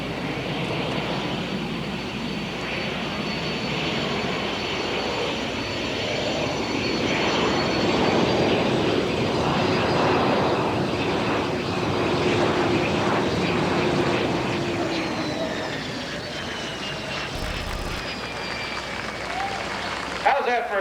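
A fixed-wing propeller airplane from a 1990 demonstration touches down in a short-stop landing, its engines droning loudly and steadily before the pitch shifts and tapers as it slows, with a brief thump near the end.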